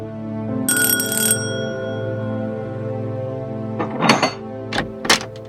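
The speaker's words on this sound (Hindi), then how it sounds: "एक मिनट रुको, घंटी बजी है, देखें।" A bell-like electronic chime rings out clearly over a steady background hum, followed by a few sharp knocks or thumps a few seconds later.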